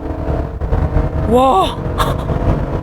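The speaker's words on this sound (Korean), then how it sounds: "밟자마자 8기통 엔진이 미친 듯이 돌아갑니다" A 2023 Chevrolet Tahoe's V8 revs hard in sport mode as it accelerates from low to high speed. A deep, steady engine rumble runs throughout, and one person's excited exclamation rises briefly over it.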